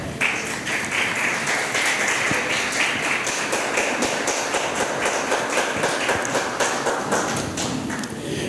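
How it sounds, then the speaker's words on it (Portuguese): A church congregation claps together in a dense, steady roar of hand claps that fills the room, sustained for several seconds without speech. "Aplauda o Senhor e pode sentar."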